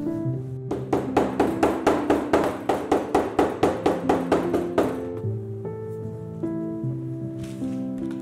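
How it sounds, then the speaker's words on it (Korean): A urethane mallet strikes folded leather during bag making, pressing the glued fold flat with a rapid, even series of about a dozen close dull knocks, followed by soft background music. "우레탄 망치로 전체 앞잡과 함께 접힌 부분을 납작하게 눌러주세요"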